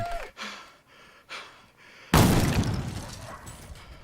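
A horror-movie shotgun blast bursts in suddenly and loudly after a stretch of gasping, breathy vocal sounds, then fades into a rough, decaying roar.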